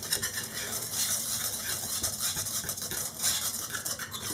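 Scraping and stirring of orange into a dry bath fizzer mixture, a soft continuous gritty rasp with small irregular scrapes, faint and close with no talk.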